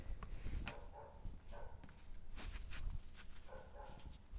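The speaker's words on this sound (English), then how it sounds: "You hear the dog barking?" A dog barks a few times in the distance, faint and intermittent, amid low background rumble.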